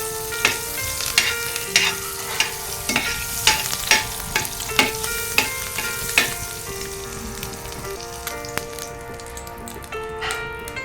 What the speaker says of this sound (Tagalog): At maglagay din tayo guys ng konting butter. Ayan, para mabango ang ating ginisang spaghetti sauce